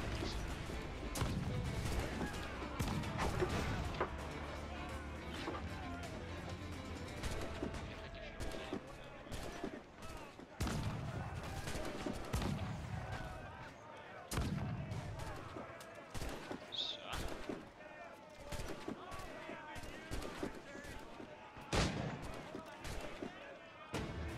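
Repeated gunshots in the video game Assassin's Creed IV crack in bursts throughout, sharp and loud, over a busy background of game noise.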